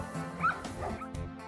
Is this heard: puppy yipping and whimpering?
yes